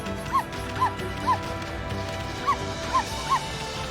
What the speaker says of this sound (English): we can do a little doggy bark